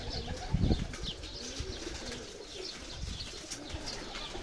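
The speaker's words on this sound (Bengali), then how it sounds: "অনেক জাতের কবুতর আছে এই জায়গাতে" Pigeons of many breeds at a pigeon farm in Saudi Arabia, soft cooing and a sudden burst of wing flapping near the start, followed by faint rustling and scattered bird sounds, fairly quiet with no talking.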